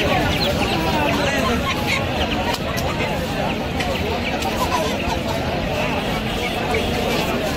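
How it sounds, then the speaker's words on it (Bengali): Chickens and young chicks of mixed breeds, including Frizzle and tiger-patterned chicks, cluck and cheep continuously inside a poultry house, a dense steady chorus with voices mixed in. "বিভিন্ন ধরনের মুরগির বাচ্চা দেখতে পাচ্ছেন।"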